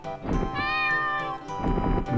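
A buffalo creature in the PC game Geranium's Kwest lets out one loud, drawn-out meow that swells and falls, like a cat's call, with short scuffling sounds before and after.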